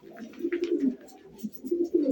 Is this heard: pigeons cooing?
yes